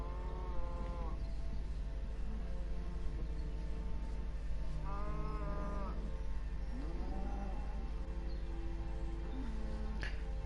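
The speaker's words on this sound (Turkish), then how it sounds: "Sırf şu inekler yüzünden bu eve girmek istemiyorum biliyor musunuz?" Cows in the Minecraft video game moo several times in drawn-out, tonal calls at moderate volume over a steady low background hum, with no talking.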